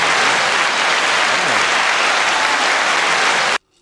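A canned applause sound effect is triggered on a podcast, a loud, full crowd cheering and clapping that runs steadily and then cuts off abruptly near the end.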